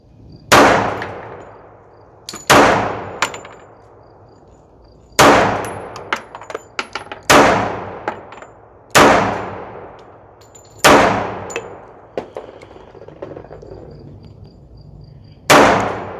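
A Colt Series 70 comp handgun fires about nine or ten loud, close single shots at uneven intervals, some in quick pairs, each leaving a long ringing decay.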